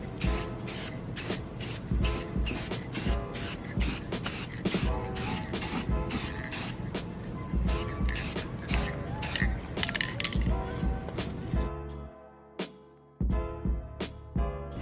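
A second coat of clear coat is sprayed onto a 2005 Acura RSX headlight in a rapid series of close hissing bursts, with the last few bursts more spaced out before it stops.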